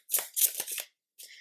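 Playing cards shuffled for a tarot reading, two quick riffling bursts close by, followed after a short pause by a softer brief shuffle.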